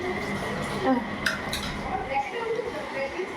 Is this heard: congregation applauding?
no